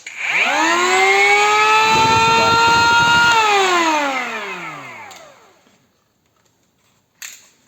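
A WORCRAFT CEP-S20LiB cordless brushless planer spins up to a loud, high motor whine, holds steady for a few seconds, then winds down and fades to silence, followed by a brief click.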